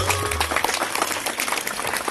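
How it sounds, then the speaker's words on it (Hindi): Audience at a village Karma festival gathering clapping, a dense, continuous burst of applause from many hands with a brief tone at the start. "तनी सुन ताली बजा देवा"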